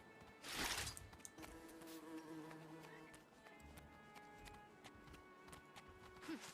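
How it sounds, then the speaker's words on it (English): Evening cicadas in Elder Scrolls Online, a faint buzzing, chirring insect drone with tonal whines and scattered light clicks like footsteps or hooves, quiet and continuous, with no talking. "We've got cicadas."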